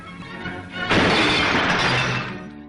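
An old-fashioned glass car windscreen shatters in a loud, sustained burst of crashing and tinkling glass that follows a brief lead-in and gradually tapers off.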